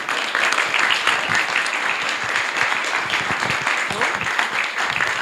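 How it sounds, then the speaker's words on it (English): A crowd at an event with a choir breaks into sustained applause, dense and steady clapping filling the room for several seconds. "Big round of applause."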